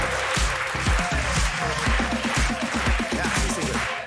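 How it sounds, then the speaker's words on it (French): Applause for Ségolène Royal from a studio audience, dense clapping with an underlying rhythmic thumping beat, loud and sustained through the whole stretch. "Applaudissements pour Ségolène Royal."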